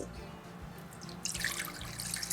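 Two cups of water poured while making gelatin for a Christmas trifle, a soft dribble that swells into a brighter, splashy pour about halfway through, close by with no talk.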